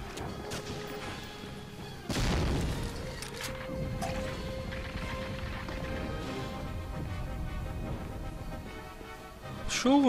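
Grenades explode during a firefight in the video game Medal of Honor: Frontline on PS3, with a heavy crashing blast followed by sustained rumbling battle noise and scattered gunfire.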